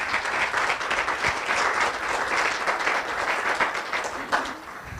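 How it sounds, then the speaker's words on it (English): Conference attendees at an investment event in Bahrain applaud the organising team, with a full, dense round of clapping from many hands, steady and fairly loud for about five seconds before tapering off. "give a round of applause to the team who've done all of this work to put this together"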